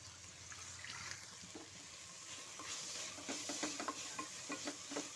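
Sliced onions sprinkled with salt are stirred and sautéed in a pan for a Kerala-style beef dish, giving a faint, soft sizzle with quick scraping stirs toward the end.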